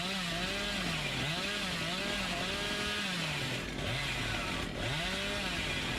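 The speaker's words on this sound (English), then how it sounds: "he's been caught by a long-range chainsaw!" A chainsaw in the Dead by Daylight video game drones steadily throughout, its pitch rising and falling in repeated revving swells over constant background noise, with no talking.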